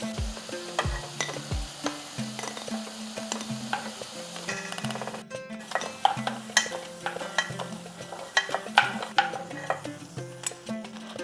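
Lentil dumplings (bori) fry in hot oil with a light crackling sizzle and scattered clinks of a utensil against the pan, accompanied by soft background music.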